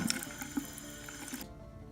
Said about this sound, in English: Now all I'm going to do is run these under water and get these nice and clean